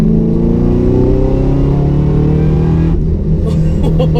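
A modified 2013 Camaro ZL1 making 670 horsepower accelerates hard at high revs, its loud, close engine roar climbing steadily in pitch and pulling continuously from start to finish.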